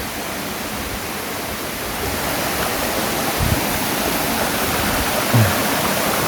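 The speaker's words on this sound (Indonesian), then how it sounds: "Kita sudah sampai ke air terjunnya." A steady, broad roar of rushing water fills the scene without pause, loud and continuous from the Kedung Gender waterfall nearby in Kudus.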